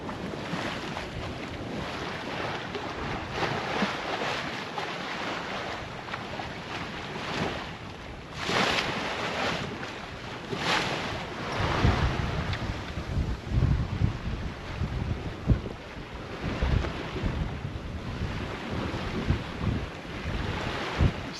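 A sailboat under sail alone on the open Pacific in about ten knots of wind, with steady rushing wind buffeting the microphone, water washing along the hull and occasional louder gusts and splashes.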